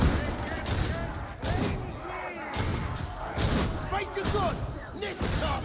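A bolt gun fires repeatedly in Warhammer 40,000: Darktide, heavy punchy shots in quick bursts amid combat clatter, with a voice talking over the action.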